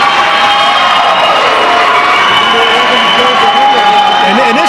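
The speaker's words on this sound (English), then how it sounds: "it really riles the Cavalier fans up" Basketball fans of the Cavaliers cheer and shout steadily in a high school gym during a 2004 district tournament game, a dense, sustained crowd roar with scattered whoops throughout.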